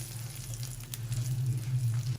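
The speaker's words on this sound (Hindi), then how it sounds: "बस 1 मिनट तक हम फ्राई करेंगे मसाले के साथ।" Spices frying with a tomato and garlic chutney paste in a pan, a steady low sizzle with a faint bubbling hum running evenly throughout, no voices.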